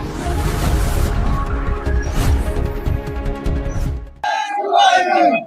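A crowd of NSUI student protesters chants and shouts slogans in unison outdoors, a dense roaring wall of voices that suddenly cuts to a single nearer voice talking.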